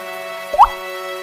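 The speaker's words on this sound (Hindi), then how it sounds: "बारिश रुकने का नाम नहीं ले रही थी।" A single cartoon-style water drip sounds at night in the rain, one short bright plop standing alone over a faint steady background.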